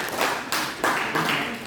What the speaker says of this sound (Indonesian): Kita berikan tepuk tangan pada teman kita yang luar biasa ini.